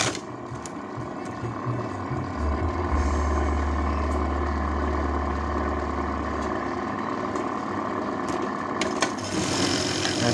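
Siruba 781 buttonhole sewing machine running at full speed, a loud steady mechanical whir with a fast rhythmic clatter and low motor hum, close up, ending with a few sharp clicks.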